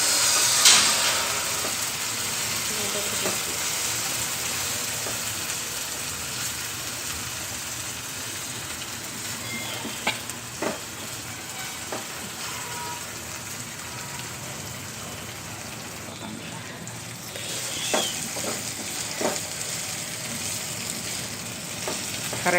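Ground raw green chilli and curry leaf paste fries in hot oil, a steady close crackling sizzle with occasional pops and stirring clicks throughout.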